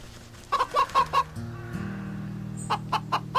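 Chickens in the video game Wytchwood cluck in short rhythmic bursts at close range over a low droning background tone, pausing before another run of clucks.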